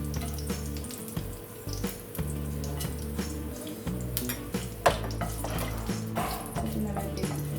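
Spices frying in hot oil for an Arabian mutton mandi give a steady close sizzle with occasional sharper crackles and clatters, running alongside a persistent low tonal hum from the kitchen.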